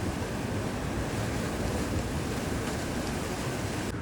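Sea waves break continuously near a natural pool on the coast of Madeira, giving a steady, loud roar of surf with heavy wind noise on the microphone and no pauses.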